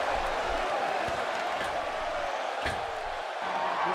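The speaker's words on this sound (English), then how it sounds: "This crowd going crazy for Stone Cold Steve Austin" Video game crowd noise from WWE 2K16 during a Stone Cold Steve Austin match, a dense steady roar of cheering arena fans lasting throughout, with a brief thud of impact partway through.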